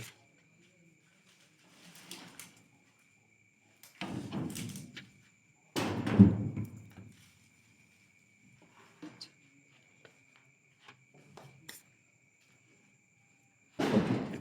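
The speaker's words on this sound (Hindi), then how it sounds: "दरवाजा हिलने की आवाज आई" An old door in a deserted haveli rattles and bangs in several separate bursts spaced a few seconds apart, fairly close and moderately loud, with long quiet gaps and faint insect chirping between them.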